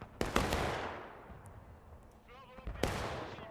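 Gunfire in the video game War of Rights during a large multiplayer battle in a field: a few loud, sharp shots, each trailing off in a long echoing rumble, with quieter scattered firing in between.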